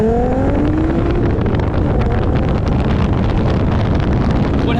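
An MK4 VW Golf R32 with a VR6 engine and all-wheel drive launches hard, its engine note rising under heavy wind buffeting and road roar, loud and close.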